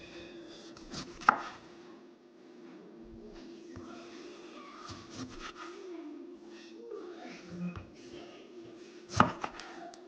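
A knife splits food down the middle on a cutting board while making aguachile, with two sharp chopping knocks standing out over a steady low kitchen hum, close by and without speech.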